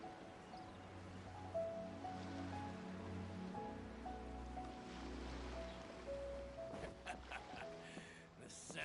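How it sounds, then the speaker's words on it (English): Ocean waves in a video game wash in a steady, soft surf over a low musical drone and scattered tones, with a faint voice murmuring now and then. "The sound of the ocean"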